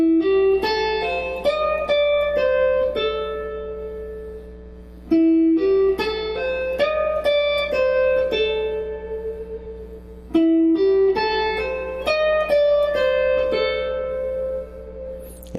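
Slow blues guitar lick of clean, ringing single notes played in three similar phrases, each opening with a low note and climbing through sustained higher notes, with no talking.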